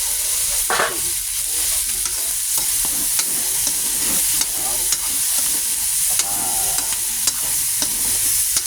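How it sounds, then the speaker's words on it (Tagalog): Mung beans sautéing in a pan, a steady close sizzle and frying hiss running throughout with occasional scraping clinks of a spoon stirring against the pan. "Bali ginisa ko lang yun."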